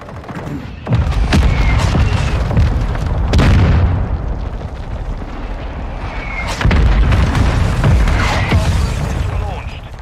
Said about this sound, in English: Friendly mortar.